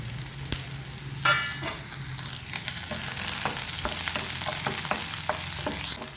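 Green chillies tossed into okra frying in a pan, giving a steady sizzle broken by stirring clinks and scrapes.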